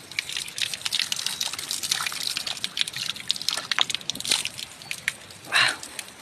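Spring water flowing steadily outdoors in hilly country, a close, continuous hissing trickle with scattered drips and splashes, with no talk over it.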